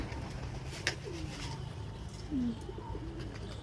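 Pigeons coo softly in short low calls over faint background noise, with a light tap or flutter early on.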